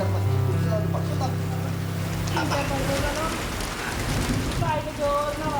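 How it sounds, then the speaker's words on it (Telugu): Heavy rain falls outside on a windy night, a steady dense hiss and patter that runs the whole time, with a droning tone underneath during the first half. "బయట జోరున వర్షం"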